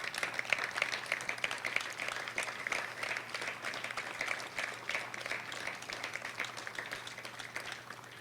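Sustained applause from an audience at a high school groundbreaking ceremony as the staff stand, a dense steady patter of many hands held at an even level throughout, with a low constant hum underneath.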